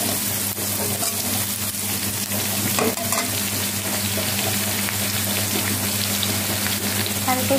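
Onions frying in a pan for a Bengali home-cooked lunch, giving a dense, even sizzle that runs the whole time, with a low steady hum beneath and a few soft stirring knocks.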